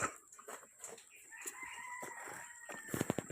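Chickens being fed grass give soft, scattered clucks, with a drawn-out call in the middle and a quick burst of clucking near the end, all faint and fairly close.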